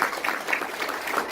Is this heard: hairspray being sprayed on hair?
no